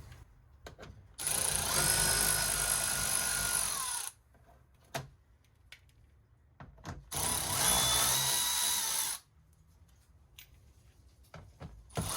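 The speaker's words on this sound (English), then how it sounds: "we got a total of 4 7mm bolts that we got to remove" A power tool spins out 7mm bolts beneath a 2020 Dodge Charger Widebody during a rear diffuser install, two loud sustained whirring bursts of about three and two seconds separated by quiet shop noise and light clicks.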